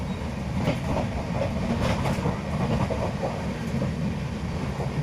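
A long-distance passenger train from Krishnanagar to Gujarat rolls steadily along the rails, heard from on board as a continuous loud rumble with faint rhythmic clickety-clack and no talking.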